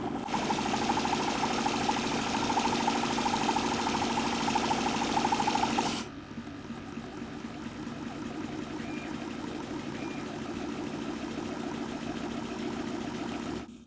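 A homemade Stirling engine mounted on a bicycle runs with a steady, close mechanical whir and rattle, loud for about six seconds before dropping to a softer, continuous hum.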